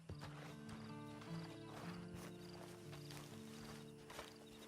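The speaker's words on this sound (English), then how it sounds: "Then you better get on this horse." Horse hooves clip-clopping in the Red Dead Online video game, a steady walking rhythm of hoof falls under sustained musical tones, faint and fairly even throughout.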